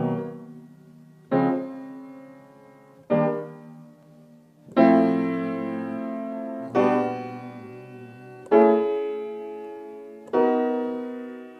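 Solo jazz piano plays a sequence of major seventh chords whose roots move by whole steps, seven sustained chords struck one after another at an even, unhurried pace, each left ringing until the next, with no talking.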